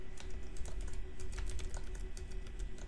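Password typed on a computer keyboard at a server setup, a quick irregular run of close, crisp key taps with a low room hum underneath.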